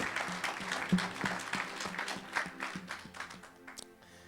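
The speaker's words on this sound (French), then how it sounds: "Somebody clap your hand for the prophetic." A congregation clapping hands during a lively French-language church service, rhythmic claps over music with bass and drum beats, moderately loud and fairly close.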